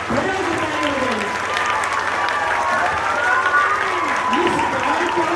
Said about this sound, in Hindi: सबके सब खड़े होकर तालियां बजाइए, खड़े होकर तालियां बजाइए